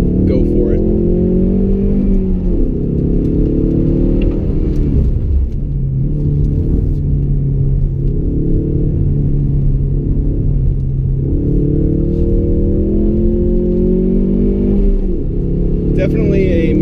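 Ford Mustang EcoBoost engine revving up repeatedly while driven around a figure-eight track, rising pitch sweeps broken by gear shifts, a loud close interior drone with rumble throughout.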